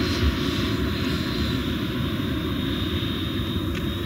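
Freewing Avanti RC jet with a 4.2 kW WeMoTec electric ducted fan motor on 8S power, flying high-speed passes over an airfield; a steady, loud whooshing fan roar holds constant throughout with no voices.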